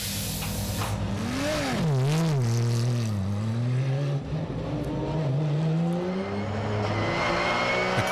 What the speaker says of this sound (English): The car can achieve speeds of up to 300 kilometers an hour.